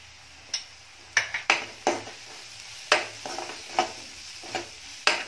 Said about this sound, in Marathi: कांदा आहे तो परतून घ्यायचा आहे जरा।